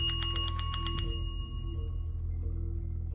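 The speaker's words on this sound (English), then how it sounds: "Suddenly, the old school bell rang." An old school bell rings in a quick burst of about eight bright metallic strikes, then its tone fades away into a low background hum.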